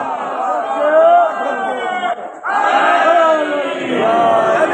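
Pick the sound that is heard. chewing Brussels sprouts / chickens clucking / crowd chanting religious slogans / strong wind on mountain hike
crowd chanting religious slogans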